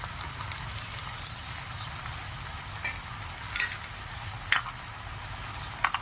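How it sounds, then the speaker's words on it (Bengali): Egg fried rice being stirred in a hot pan sizzles steadily, with a soft continuous frying hiss and occasional scraping clicks of the spatula against the pan. "ভালো করে সব মিশিয়ে নেবো"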